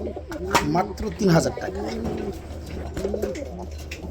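Pigeons in a loft coo in repeated rolling, throaty phrases, close and clear, while someone talks over and between the calls.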